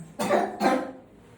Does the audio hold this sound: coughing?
yes